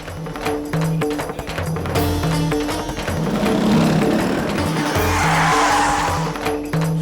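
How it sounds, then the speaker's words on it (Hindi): A car brakes hard to a stop on a road, a long skidding tire squeal rising over engine noise, with music continuing beneath. "गाड़ी रोकी भाई साहब।"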